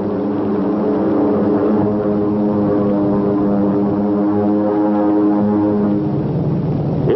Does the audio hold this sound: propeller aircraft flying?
yes